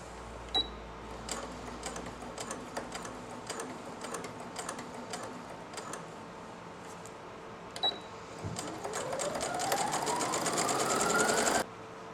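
A Brother Innovis-600 sewing machine stitching in reverse, a rapid mechanical ticking of the needle with a few sharp beeps, then a whirring motor that rises in pitch as it speeds up before stopping abruptly.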